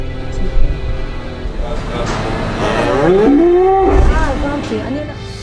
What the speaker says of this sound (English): The cow will bellow out for days.